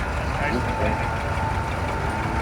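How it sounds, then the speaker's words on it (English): A small Kubota tractor engine idles steadily and close by at an antique engine and tractor farm show, a low continuous rumble with a faint hum, while people talk over it. "We got a little Kubota coming through here with a little trailer."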